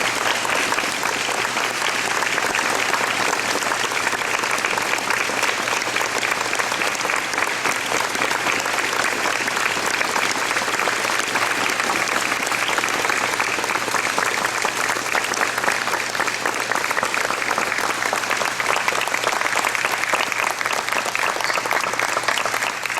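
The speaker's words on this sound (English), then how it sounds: "Another round of applause." Audience applause for the Western Reserve Community Band, a steady wash of many hands clapping that holds at full strength for the whole stretch without pause.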